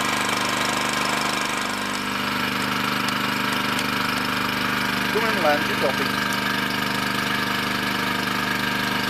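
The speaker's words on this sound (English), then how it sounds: "I'm just going to turn the generator off for a few minutes" A generator engine idles steadily in the background, a continuous low mechanical drone with faint knocking, while a voice speaks briefly over a radio-style exchange.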